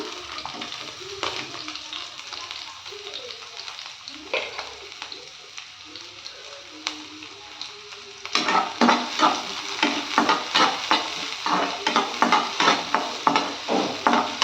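Onion sautéing in hot oil for a cauliflower gravy, a steady sizzle with a run of rhythmic stirring scrapes and clinks of a utensil against the pan that grow louder and busier toward the end.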